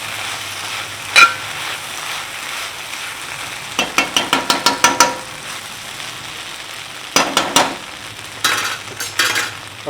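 Bhindi masala, okra cooking in a pan with spices, sizzles steadily up close while a utensil scrapes and stirs in quick rhythmic bursts of clacks, no talking heard.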